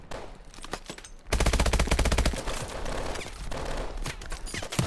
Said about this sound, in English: This shotgun is immense.